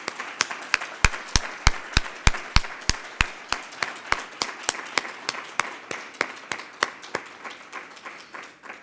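A conference audience gives a steady round of applause for Ukrainian women, dense claps that start sharp and loud, then keep going slightly softer for several seconds, with no voices over them.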